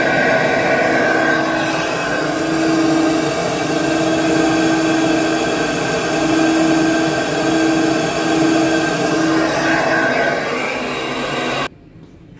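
A 318 V8 engine fitted with a Holley 850 cfm carburetor and a K&N air filter runs at a steady idle, a loud continuous drone with a faint rhythmic pulse, cutting off near the end.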